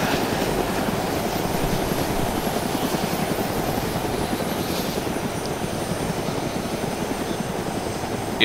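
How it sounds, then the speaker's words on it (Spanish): A helicopter lands in the video game DayZ, its rotor beating in a loud, continuous, rapid chop with an engine whine throughout, heard alone without talk. "Segundo helicóptero aterrizando."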